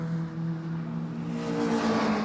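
Mini Cooper race cars at Castle Combe give a steady engine drone that rises in pitch as they accelerate past, moderately close, with no talking over the noise.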